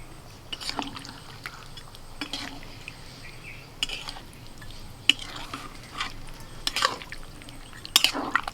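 Water goes into a pan of sautéed, spiced chicken and begins to simmer, with soft liquid splashes, scattered clinks of a spoon against the pot and gentle stirring close by, no voices.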